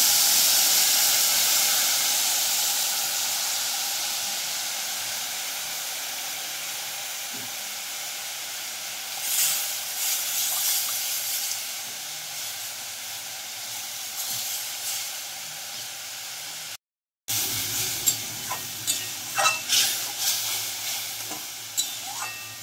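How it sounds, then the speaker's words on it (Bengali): Tamarind pulp for coriander chutney boiling in a pan, a broad steamy hiss that fades gradually, then bubbling pops and stirring scrapes after a brief gap. "এবার আমি দিলাম তেঁতুলের মাড়, বেশ ভালো করে ফুটিয়ে নিতে হবে"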